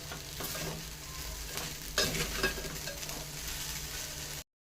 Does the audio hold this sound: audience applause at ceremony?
no